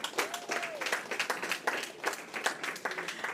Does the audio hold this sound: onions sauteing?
no